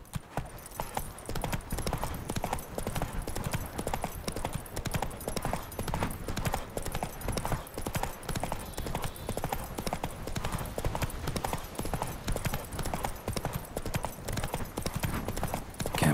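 Horse hooves gallop in a video game, a fast, continuous clip-clop rhythm near and loud throughout, with brief snorts.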